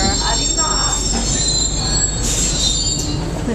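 A Paris metro train squeals along the rails at a station with high metallic screeching over a steady rumble, loud and close, with faint voices in the background.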